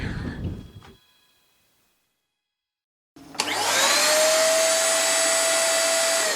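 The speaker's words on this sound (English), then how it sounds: "So that's the only vacuum cleaner I could find in all of Krabi." A brief rattle fades to silence, then a vacuum cleaner switches on aboard a boat in Krabi with a rising whine and settles into a loud, steady roar close by.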